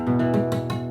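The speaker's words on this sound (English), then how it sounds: "So the power chord on itself should just sound like this." A few quick strums of a distorted electric guitar chord, each one thick and ringing, played up close with no voices.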